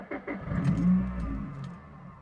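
A Subaru WRX engine fired up after an ECU reflash: a short cranking burst catches into a loud rev that settles toward a rough idle, heard close and alone.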